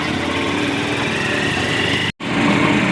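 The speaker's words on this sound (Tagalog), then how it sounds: "bago na nga ating makina" A new fishing boat engine runs steadily and loudly with a buzzy high-pitched drone, briefly cutting out for an instant near the end before resuming.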